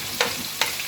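Chopped onions frying in hot oil with cumin seeds, a steady close sizzle throughout, broken by two quick stirring scrapes.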